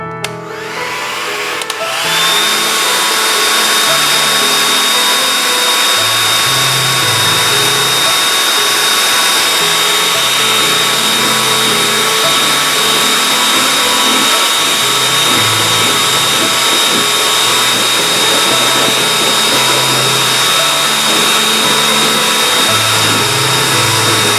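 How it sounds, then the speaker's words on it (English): A steady, loud blow dryer whirs on after a brief start, heating fake leather on a couch, its airy roar running continuously with a faint high whine and no talking. "I'm going to turn on my blow dryer and I'm going to heat my leather."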